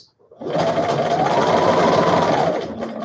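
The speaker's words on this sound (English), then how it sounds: "Keep sewing." A sewing machine stitches a fabric face mask, its steady close whirring motor running continuously for about two seconds after a brief start, with no talking.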